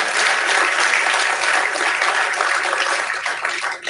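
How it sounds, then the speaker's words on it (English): An audience at a startup demo day in Singapore claps steadily in a thick, loud round of applause that runs the whole time and tapers slightly at the very end. "Round of applause for Enterprise Singapore"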